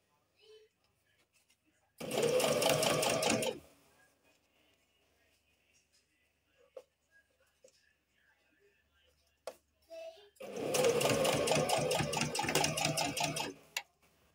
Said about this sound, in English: This is just our home sewing machine, not the upholstery machine.